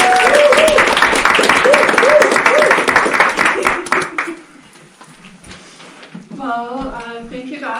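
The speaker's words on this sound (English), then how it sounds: "let's have a little applause for Amy." Audience applause at a permaculture design course talk, a dense burst of clapping mixed with a few voices that fades out after about four seconds, followed by someone speaking.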